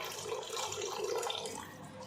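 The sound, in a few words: water being poured into a cooking pot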